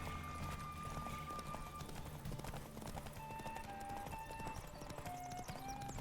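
Horse hooves clip-clop steadily through a medieval setting in The Witcher video game, with soft background music and ambient sound, moderately loud throughout.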